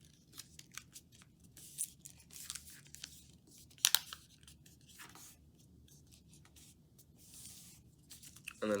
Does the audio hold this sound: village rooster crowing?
no